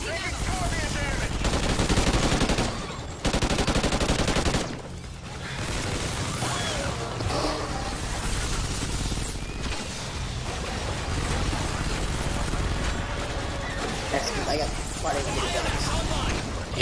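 Dense Call of Duty Ghosts gunfire crackles in rapid automatic bursts with mechanical weapon clatter, loud and nearly continuous, while a player talks over the action.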